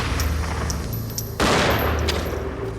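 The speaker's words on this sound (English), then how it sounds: "Officer Webb managed to pull his own weapon and return fire." A police officer returns fire in a staged reenactment: sharp gunshots crack out, first a few spaced pops and then a louder, sustained burst of rapid fire that fills the scene.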